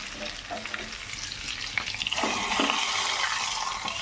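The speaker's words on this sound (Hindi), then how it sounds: "यहाँ पे हम दाल को फ्राई करने वाले हैं ऐसे कलछुल में" Dal sizzles in hot oil in a ladle in a home kitchen. A steady crackling hiss grows louder and denser about halfway through, with faint stirring scrapes underneath and no voices.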